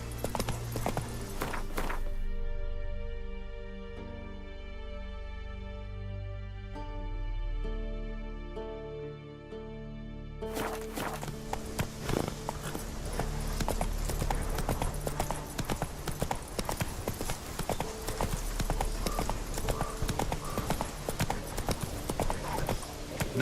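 Horse walking and galloping in The Witcher 3: Wild Hunt, rhythmic hoof clip-clops under a swell of game music, then a dense, fast drumming of hooves that continues to the end.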